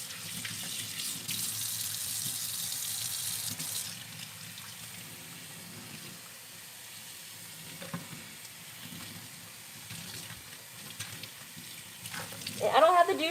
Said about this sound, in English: So I'm just letting the water get through and run through the hair.